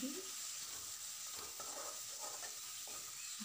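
Coriander and chili powder masala fries in a pan, making a faint, steady hiss with soft scraping stir strokes scattered through it. No voices are heard.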